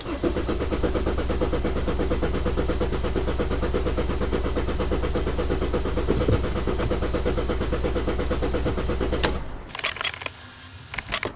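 A Mercedes CLK 270 W209 engine idles steadily right after starting, a loud, even mechanical hum running for about nine seconds before cutting to quiet with a few scattered knocks.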